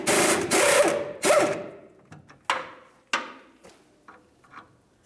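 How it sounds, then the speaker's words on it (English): A socket wrench turning a 21mm nut off a leaf spring shackle bolt on a 2005-2010 Dodge Dakota, with two bursts of rapid ratcheting followed by several separate metallic clicks and taps, close and loud. "We'll hold that bolt head still and remove our 21mm nut."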